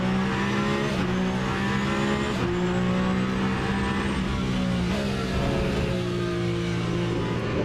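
Le Mans Ultimate hypercar with a hybrid generator giving off a steady whistling whine over a continuous engine and road drone, the pitch shifting gently at a few points throughout.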